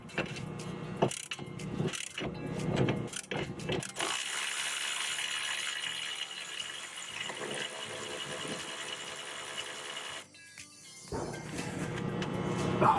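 A 14mm socket on a ratchet loosening sway bar bolts on a 2021 Toyota RAV4 TRD, rapid metallic ratchet clicks and clanks early on, then a steady mechanical hiss and tool rattles, close by.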